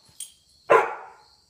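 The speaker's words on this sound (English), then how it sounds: "You're a silly dog." A dog gives a faint short yip followed by one sharp, loud close bark that trails off, in a quiet indoor setting.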